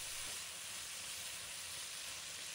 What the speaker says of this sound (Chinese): 继续挥动锅铲，让调料与鸡胗充分融合，翻炒至每一片鸡胗都裹满酱汁